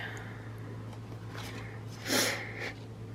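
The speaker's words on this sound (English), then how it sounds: "See, I just sniffled" A single quick sniffle near the end, a short nasal intake of breath against quiet room noise.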